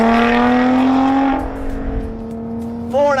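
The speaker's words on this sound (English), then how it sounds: "that titanium exhaust just absolutely roars in a beautiful metallic melody" A 2018 Lotus Evora GT430 with a titanium exhaust revs loud and close, climbing in pitch toward 4,500 RPM. It drops back as the throttle eases, then flares up again briefly.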